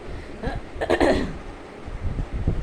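A single harsh cough close by from someone with a severe, persistent cough, heavy and raspy, with some rustling and breathy noise around it.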